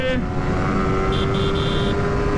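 A Suzuki GSX-R150 motorcycle pulling hard in second gear: a loud, close, steady engine drone with a high whine above it.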